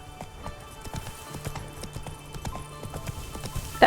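Horse hooves clip-clop at a steady trotting rhythm in the Witcher 3 video game, clear and fairly close, alone without talk over them.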